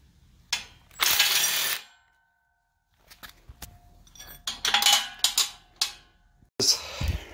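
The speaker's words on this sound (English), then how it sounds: "we're gonna secure these bolts" Bolts on a Harbor Freight trailer are secured in bursts of metallic ratcheting and clinking, several short bouts of rapid clicks close by, separated by pauses and a stretch of silence.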